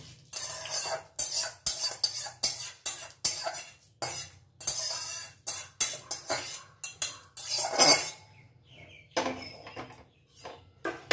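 A spoon scrapes and clinks against a bowl as fried curry leaves are stirred into dhokla batter, a close run of irregular metallic knocks and scrapes with short pauses, no voices.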